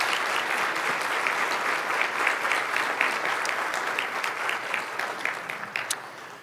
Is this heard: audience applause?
yes